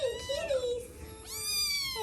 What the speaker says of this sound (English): Baby kitties. Kitty kitties.